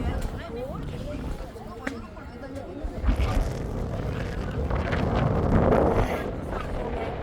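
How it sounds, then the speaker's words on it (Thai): Strong wind buffets the microphone on the Pohang Space Walk, a steady low roar that swells louder toward the end, with people talking over it. "ลมแรงว่ะ"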